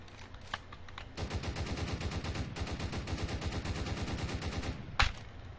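Rapid automatic gunfire in Roblox Prison Life, a long continuous burst of evenly spaced shots for several seconds, preceded by a few scattered single shots and followed by one louder crack.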